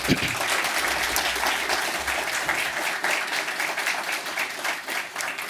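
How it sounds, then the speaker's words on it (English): A conference audience gives sustained applause for its presenters, a dense, steady wash of many hands clapping that continues at an even level throughout. "Please, a round of applause for all of our presenters."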